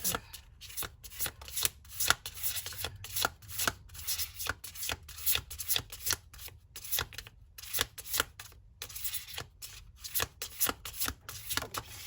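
Tarot cards shuffled by hand, a steady run of quick crisp riffles and soft slaps repeating close up for the whole stretch with no talking.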